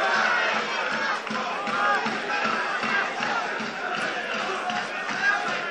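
Large crowd roaring and cheering at a Limerick hurling match, a steady, loud wash of voices heard from the stands with shouts rising and falling throughout.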